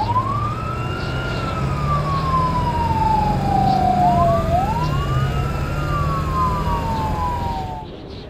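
A loud wailing ambulance siren sweeps up and down in long glides, overlapping itself as it passes, with traffic rumble underneath.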